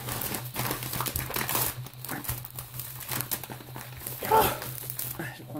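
Crinkling and rustling of packaging material handled up close, with intermittent tearing-like crackles and a steady low hum underneath.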